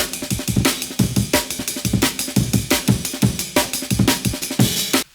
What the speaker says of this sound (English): Quite a classic choice of sound, vinyl crackle, Amen break.